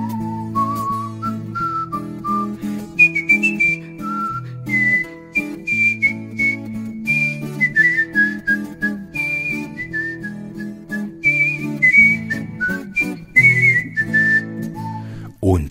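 A professional artistic whistler whistles a melodic tune over a chordal instrumental accompaniment, clear and close, with phrased notes and short pauses between lines.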